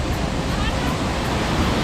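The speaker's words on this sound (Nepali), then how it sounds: "ए यो हो झरना" Waterfall at Sundarijal, Nepal, a steady, close rushing roar of falling water that fills the whole clip at an even loudness.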